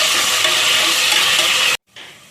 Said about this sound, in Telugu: ఆయిల్ అయితే వేడైంది కదా ఉల్లిపాయ వేసుకుందాము